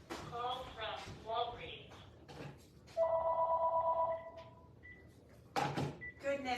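A landline telephone rings in a home with a repeated electronic trill in two clear bursts, between stretches of a person talking nearby.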